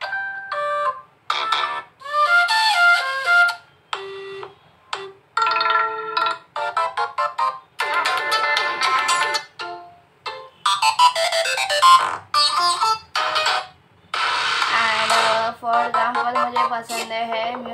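Ringtone previews on a Motorola e32s phone play one after another, short bursts of bright melodic tones stopping and starting, loud and close, with no talk over them.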